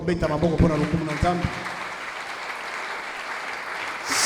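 A congregation applauds and cheers during a Sunday church service. A preacher speaks first, and then clapping and crowd noise swell into a sustained roar that fills the room.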